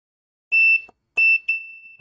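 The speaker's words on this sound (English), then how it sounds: "Nice solid beep as soon as I do press it." Sharp electronic continuity-tester beeps sound as a repaired monitor's front button is pressed: a short tone, a pause, then a second beep that holds steady before cutting off, loud and close with no talk.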